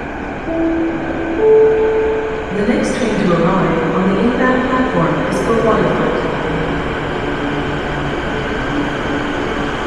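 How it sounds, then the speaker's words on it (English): A Vancouver SkyTrain pulls into a city station, its steady rumble and rising mechanical whine filling the scene along with a couple of sharp high chirps, while people talk nearby. "Here comes the SkyTrain right now."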